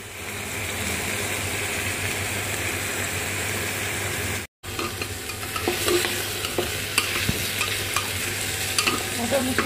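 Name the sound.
moong dal frying and being stirred in a pan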